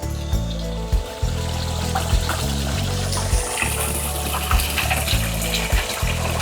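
Water gushes and splashes steadily from a cordless pool vacuum being emptied at a stock tank pool, with a few louder surges and sloshes through the flow.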